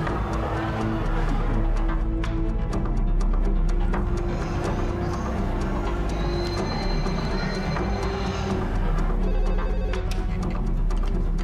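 A telephone rings repeatedly on an outgoing call to a home, heard loud and close over a steady low hum with no talking.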